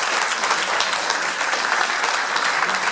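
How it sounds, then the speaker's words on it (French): Steady applause from a crowd, dense clapping that holds at an even level throughout without any talk over it. "on peut effectivement applaudir"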